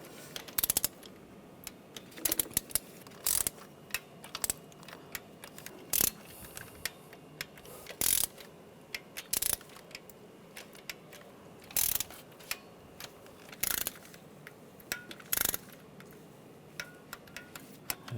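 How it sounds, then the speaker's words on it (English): Ratchet clicking in short repeated bursts while valve cover bolts are snugged and torqued on a 1996-2002 Toyota 4Runner, sharp close ticks separated by brief quiet pauses. "Go around, snug them down, and then we're going to torque these to 53 inch-pounds"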